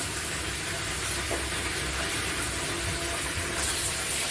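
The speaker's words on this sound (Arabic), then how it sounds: "وانا بقى على النار سامعين الطشاشه دي بحمر الفرخه" Chicken frying in a pan on the stove while Egyptian kishk is cooked, giving a steady, loud broadband sizzle and hiss that runs unbroken throughout, with no talking.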